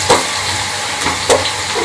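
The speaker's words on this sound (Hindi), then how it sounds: "प्याज जैसे ही थोड़े थोड़े फ्राई हो रहे हैं" Onions sizzling gently in a pan on the stove, a steady close frying hiss with a couple of soft stirring scrapes.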